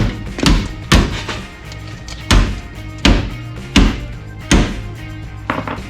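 A hammer strikes the rusty body of a square-body Chevy truck in loud, irregular metallic thunks, about seven blows over several seconds with short ringing decays between them.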